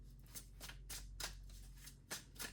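A tarot card deck is shuffled, giving quiet, close riffling bursts at an irregular rhythm against faint background hum.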